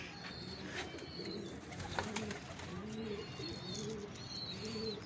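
Pigeons coo repeatedly in soft, rolling calls on a rooftop net in a king pigeon loft, with faint chirps and steady outdoor background noise.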